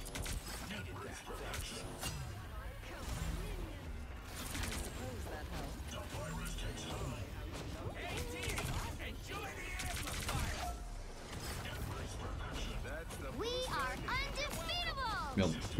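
Gunfire and clattering mechanical effects from the video game Marvel Rivals keep going as dense bursts of shots and crashes, with voices talking over the game action.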